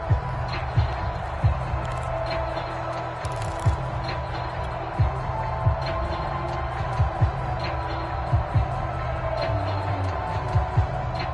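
Steady roar of a large stadium crowd at a Ravens football game fills the background, with scattered thumps, while a commentator talks over it.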